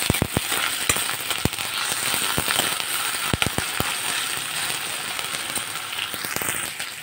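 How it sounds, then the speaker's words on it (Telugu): Ginger garlic paste, about half a spoon, frying in hot oil while cooking ridge gourd, with steady dense sizzling and sharp crackling pops scattered throughout, close and fairly loud. "ఇప్పుడు ఈ స్టేజ్లో మనం అల్లం వెల్లుల్లి పేస్ట్ ఒక 1/2 స్పూన్ వేసేసుకొని చక్కగా వేగనిచ్చుకోవాలి"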